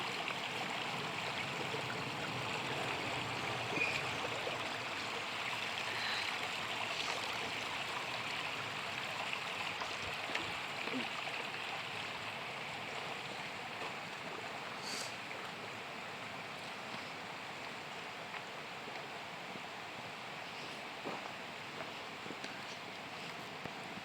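High, fast-flowing river water in the lower Drury-Mincy conservation area off Gunnison Road in Missouri, a steady broadband rush throughout, moderately distant and even, with no one talking.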